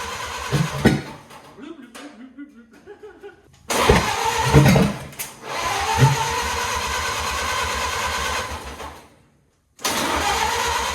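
A 1928 Ford Model A engine cranks and sputters while trying to start, giving rough bursts of turning over and brief catches separated by pauses, with someone talking over it.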